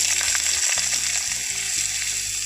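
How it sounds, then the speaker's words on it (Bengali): Potatoes hit hot oil already seasoned with bay leaf and black cumin, frying with a loud, dense sizzle and crackle. Scraping stirs cut through the sizzle for a few seconds. "এখন আমি এর মধ্যে সবজিগুলো দিয়ে দেব প্রথমে দিয়ে দিচ্ছি আলু"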